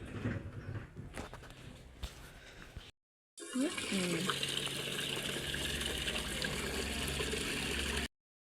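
Tap water runs while a cooking pot is washed in a home kitchen, a quieter trickle at first, then a brief break, then a loud, steady gush close by.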